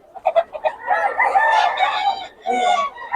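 A rooster crows loudly and close by, broken clucks from chickens come before it, and another crow follows after a short pause.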